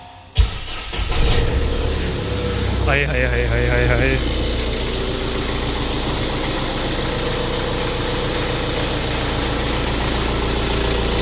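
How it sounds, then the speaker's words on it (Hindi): A diesel car without DPF cranks over and catches, then settles into a steady, loud, rattling idle that continues on its own, with a short burst of voices over the start-up. "ये हो गई गाड़ी ऑन"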